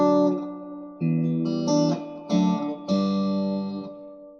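An electric guitar plays through an amp with its reverb turned up, giving clean sustained notes and chords that ring out with a lush tail in separate phrases, without talking.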